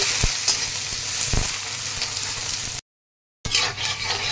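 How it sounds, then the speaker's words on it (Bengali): Steady sizzling of chopped onions frying in a hot pan, with a few soft stirring knocks, close up, broken by a brief silence before the sizzle resumes. "দিয়ে পেঁয়াজটাকে একটু ভালো করে ভেজে নেব।"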